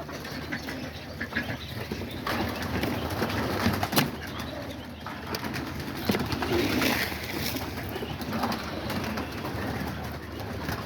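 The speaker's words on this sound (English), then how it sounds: "You can see all the pigeons right here, all ready to eat as well." Homing pigeons and doves coo softly in an aviary, low murmuring calls mixed with occasional wing flaps and shuffling, steady and fairly close.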